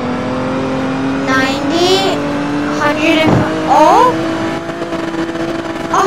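A police Ford Mustang accelerates hard toward its top speed, its engine note rising in steady sweeps over a constant road drone, with a voice speaking briefly over it.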